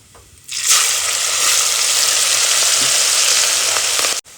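Cumin seeds and chillies dropped into hot oil for a Kathiawadi-style brinjal bharta, bursting into a sudden loud, steady sizzle that holds for several seconds before cutting off abruptly, with no talking.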